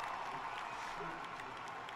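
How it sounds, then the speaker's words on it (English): A concert audience applauds during a performance, a dense, steady wash of clapping and crowd noise that stays faint and distant, with voices murmuring through it. "A round of applause, brother."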